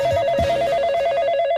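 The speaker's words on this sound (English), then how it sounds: "The Yak Shack line is ringing." A telephone line on a talk-radio show rings with a steady electronic tone repeating in quick pulses, loud and close, with no talk over it.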